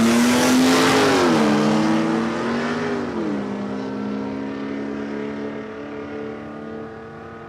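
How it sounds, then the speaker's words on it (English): Ford Cortina and Holden Monaro drag racing at Palmyra Raceway, a loud, close roar of engines rising in pitch as they launch, then fading slightly but still droning steadily as they head down the strip. "He's in the Cortina. Carmel Brash in the Monaro."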